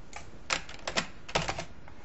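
Typing on a computer keyboard: a short burst of several crisp key clicks, close and clear, in an uneven quick rhythm with small pauses between clusters of keystrokes.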